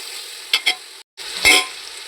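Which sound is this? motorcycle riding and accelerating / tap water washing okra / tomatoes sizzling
tomatoes sizzling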